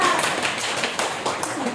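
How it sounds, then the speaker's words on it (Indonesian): A classroom gives a student brief applause after a reading, a short burst of close, fairly loud clapping from a small group. "Ada tepuk tangan untuk baca."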